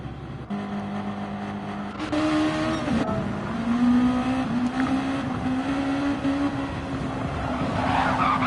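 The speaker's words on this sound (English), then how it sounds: "Car hits the grass and hits Rufus, and that's Rufus's race over." Race car in a GT racing video game skids off the track onto grass, a steady engine drone rising in pitch with tire scrub and skidding noise throughout, loud and continuous with no talking.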